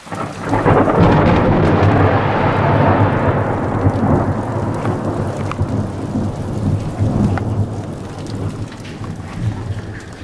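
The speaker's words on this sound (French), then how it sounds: "il y a eu un éclair là" Heavy rain pours steadily during a thunderstorm while a loud roll of thunder rumbles through the first seconds, then fades under the continuing downpour, in the Authion massif.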